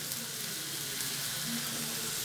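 Petha halwa cooks in a hot pan while extra sugar is mixed through it, giving a steady, close sizzle with faint stirring underneath and no talking.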